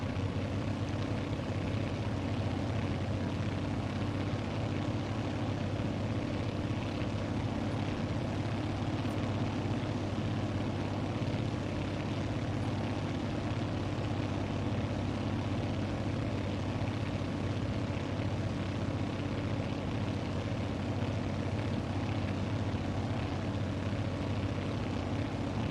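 Grumman Goose twin piston engines droning steadily and evenly in Microsoft Flight Simulator, a continuous loud propeller hum with no change in pitch throughout.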